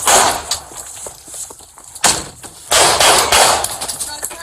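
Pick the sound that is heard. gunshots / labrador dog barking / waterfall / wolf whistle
gunshots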